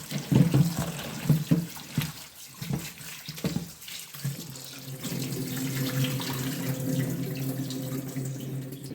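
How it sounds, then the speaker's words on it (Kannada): Bamboo shoots are rinsed under a running kitchen tap: a few sharp clattering splashes at first, then a steady, close rush of water pouring into a sink. "ಮತ್ತು ಈ ರೀತಿಯಾಗಿ ಚೆನ್ನಾಗಿ ತೊಳ್ಕೊಳ್ಬೇಕು."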